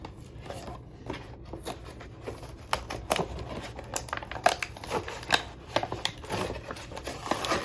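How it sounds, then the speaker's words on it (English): A Star Wars Vintage Collection Armorer action figure from The Mandalorian is cut free of its packaging: rapid close scissor snips and crisp plastic and card crackles come in quick irregular bursts, with no voices. "let's crack it out of the packaging and take a look at the figure"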